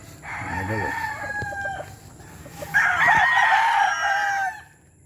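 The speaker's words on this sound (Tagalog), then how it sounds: "Ito mga manok namin guys." Chickens cluck nearby and a rooster crows loudly twice, the second crow longer and stronger, over soft background clucking.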